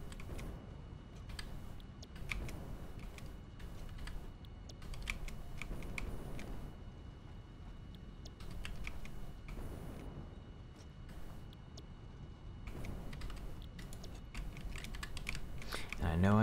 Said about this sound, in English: there's something really satisfying about clicking it for me. So it like makes the clicky noise